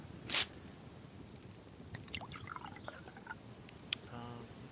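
Water being given to chickens in the video game Subsistence: a short splashy burst, then quiet scattered drips and small liquid squishes against a soft game ambience.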